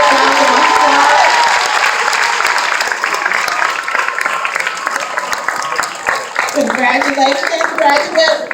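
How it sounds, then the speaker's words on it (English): A crowd at a graduation ceremony applauds honor graduates, loud sustained clapping with some cheering while voices talk over it, the clapping continuing steadily to the end. "Give them a big round of applause."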